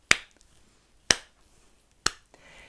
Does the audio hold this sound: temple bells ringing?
no